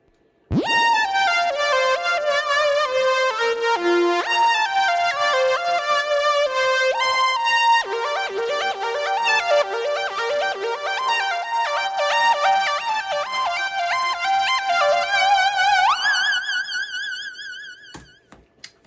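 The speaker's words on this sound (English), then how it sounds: "Synth solo by itself sounds like this." A Moog synthesizer plays a solo alone, a continuous bright melodic line of sustained and stepping notes that holds steady for most of the length and fades near the end.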